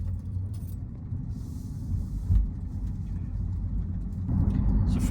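A Hyundai Ioniq 5 N electric car pulls away with a low, steady rumble of road and drivetrain noise, a faint high electric whine on top, and a light clatter near the start.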